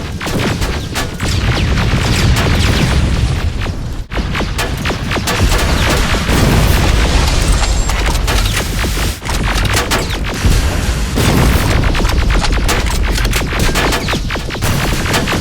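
Fighting a T-47 machine in the Terminator: Resistance video game brings dense, continuous explosions and gunfire, loud booms and rapid shots layered into a chaotic din with occasional sharp cracks.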